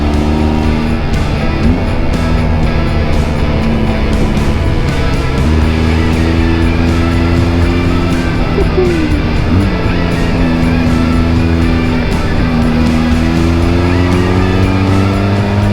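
A 47 horsepower motorcycle riding twisty A roads near Hardknott Pass, a loud, steady engine drone with rising and falling pitch through gear changes and throttle shifts, close and continuous with wind rush.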